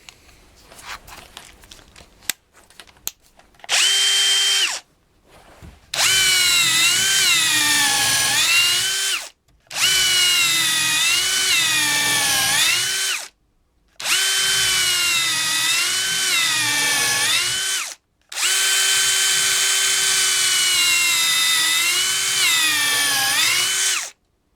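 Metabo PowerMaxx BS 12 BL Q 12V multi-head drill/driver running a number 10 countersink bit, close and loud, in four long whining bursts with rising and falling pitch and short pauses between them.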